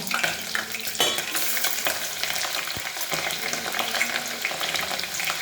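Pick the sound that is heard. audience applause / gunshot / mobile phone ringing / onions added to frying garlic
onions added to frying garlic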